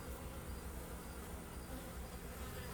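Honey bees buzz continuously around a hive during a robbing situation, a dense, even insect hum filling the scene at a fairly low level.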